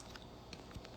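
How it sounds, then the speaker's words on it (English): Keyboard typing as someone writes a comment during a live stream, a few faint, scattered key taps close to the microphone over low background hiss, with no speech. "I'm typing this comment"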